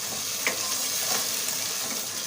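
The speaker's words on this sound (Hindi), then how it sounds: "मसाला डाल के इसको अच्छी तरह से चलाएं ताकि मसाला इसमें ऐड हो जाए" Chicken sizzles in a frying pan as masala is stirred in, a close, continuous frying hiss with light scraping and clicking strokes from the stirring.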